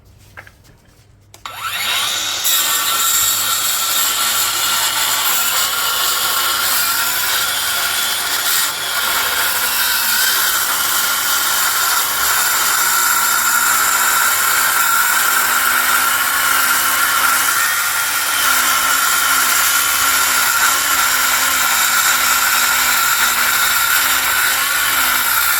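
A Dongcheng DCM cordless brushless circular saw rip cuts wood 6.3 cm thick: a brief spin-up, then a loud, continuous whining buzz of the blade through the board for over twenty seconds at close range, with no talking.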